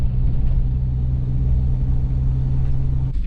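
A car moves off and drives along on a trip through Yakutia, giving a steady low engine rumble with a constant drone throughout that drops away near the end.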